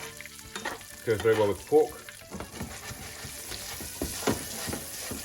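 Fennel seeds sizzle in a pan alongside Mangalitsa pork chops, a steady soft frying hiss with light stirring, under a voice speaking briefly.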